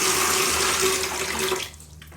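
Water pours into a container for mixing a small batch of plaster, a loud steady splashing stream close by that stops abruptly near the end, leaving quiet.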